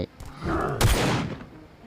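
A short burst of gunfire in Last Island of Survival: a few loud shots cluster near the middle, with a sharp report followed by a brief ringing decay over low background noise.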